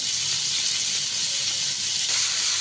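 Butter melting and sizzling in a cooking pot, a steady, loud hiss that holds evenly throughout with no talk.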